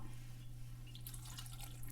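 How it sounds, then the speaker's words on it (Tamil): Half a cup of water is poured into a cooking pot while making moong dal payasam for Onam: a quiet, steady trickle of water runs continuously, with no talking. "ஒரு அரை கப் அளவு நம்ம தண்ணி சேர்த்துக்கலாம்"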